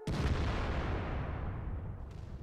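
A tank cannon fires in World of Tanks, a single loud, close boom with a sharp onset that rolls into a long, dense rumbling decay over about two seconds, heard alone.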